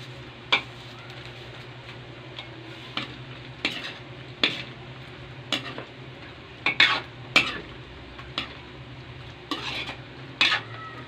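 Black beans stirred into pork adobo frying in a pan, with repeated sharp scrapes and clinks of a spoon against the pan over a low steady background hum; no talking.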